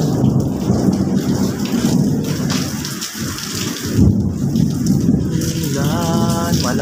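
Heavy rain pours steadily at a construction site near the sea while deep thunder rumbles through, the storm loud and close with no talking.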